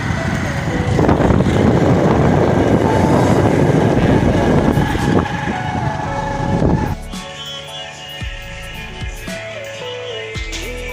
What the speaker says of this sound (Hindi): ये आ रही है गाड़ी, बाइकें आ रही हैं।